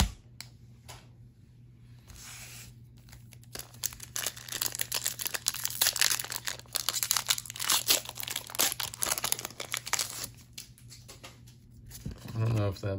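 A Pokémon promo card from a Paldea Evolved Elite Trainer Box being pulled from its plastic packaging: close, continuous crinkling and crackling of thin plastic that swells in the middle and fades, with a quiet steady hum underneath.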